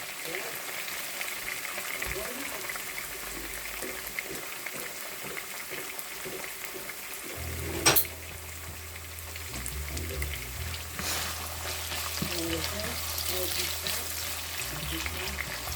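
A whole onion sizzles in a pan with pork steaks, a steady crackling hiss of frying with a low hum beneath and a brief clatter midway, continuous and fairly close.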